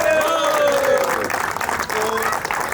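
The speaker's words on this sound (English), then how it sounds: "So a big round of applause for Cummins Arabia." A crowd at a prize distribution ceremony applauds the Cummins Arabia team, loud continuous clapping close by, with a voice briefly rising through the applause.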